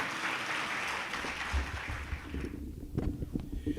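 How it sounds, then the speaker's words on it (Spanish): Audience applause at a medical presentation on type 2 diabetes, a dense burst of clapping that fades out after a few seconds, followed by scattered room noise. "Un fuerte aplauso, por favor."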